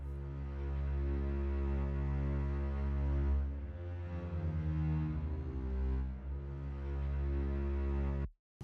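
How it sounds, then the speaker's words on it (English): Low bass part from the Spitfire Original Intimate Strings library, a sustained deep string line holding long, steady notes with a slight shift in the middle, loud and alone with no talking until it cuts off at the end. "Spitfire's original intimate strings. I'm just using the bass."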